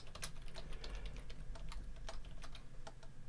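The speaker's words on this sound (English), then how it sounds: "I gotta make double sure that I'm actually typing it out correctly." Fingers type on a computer keyboard in quick, irregular bursts of clicks, with some sharper keystrokes standing out, close but quiet, and nobody speaks.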